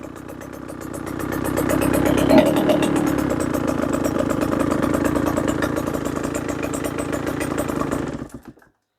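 A KTM motorcycle engine starts and idles on a workbench with a fast, even clattering putter, then cuts off abruptly near the end.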